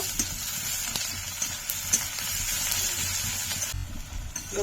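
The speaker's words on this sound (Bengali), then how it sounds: "পেঁয়াজটা ভালো করে ভেজে নেব" Onions frying in a pan of oil with dried red chillies, cardamom and bay leaves, a steady close sizzle with scattered crackles and pops that runs throughout and softens near the end.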